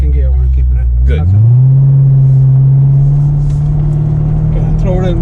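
A Chevrolet Corvette C7 Z06 engine rises from a low rumble into a loud, sustained roar as it accelerates in second gear on an autocross slalom course, heard from inside the car with voices talking over it.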